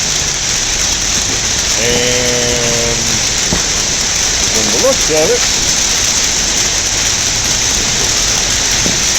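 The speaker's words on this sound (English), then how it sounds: "We've got a hailstorm." Hail pounds down outside during a hailstorm, a loud dense steady roar of impacts throughout, with a person speaking briefly over it.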